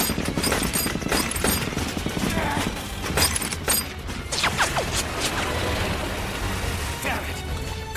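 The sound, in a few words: gunfire volley in anime battle scene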